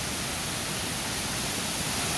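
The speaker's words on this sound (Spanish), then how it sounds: "aquí vamos bajando a la cascada" Las Golondrinas waterfall in the Lacandon jungle pours in a steady, dense roar of falling water, close and continuous with no pauses.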